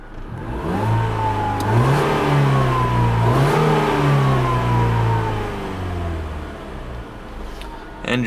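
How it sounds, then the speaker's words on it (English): A 2013 Ford Fiesta engine revs up from idle, holds at high revs with a small extra blip, then winds back down, loud and close throughout. "I'll rev the engine a couple times for you here."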